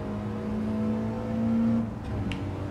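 A regular commuter car engine in Gran Turismo 7 drones at a steady, fairly loud pitch, swelling slightly midway and then easing off as the revs drop.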